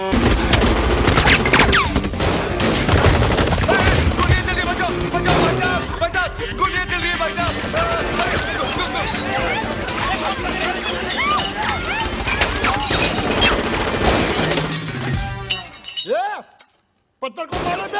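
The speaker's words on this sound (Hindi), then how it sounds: "तो वो बोलता है गोलियां कौन चला रहा है रे?" Gunfire and shattering in a chaotic Hindi comedy movie scene from Dhol, loud bursts and crashes over a busy soundtrack with shouting voices and music throughout, briefly dropping out near the end.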